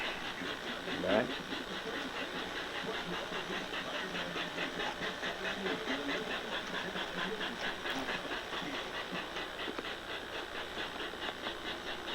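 A toy steam train runs around its track, giving off a steady, close hiss and rhythmic chuffing rattle throughout, with a faint voice briefly underneath.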